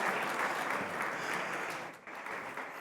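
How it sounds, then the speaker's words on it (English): An audience at a Canada-India gala claps in a short, dense burst of applause, loud and continuous with a brief dip near the end. "A big round of applause for me."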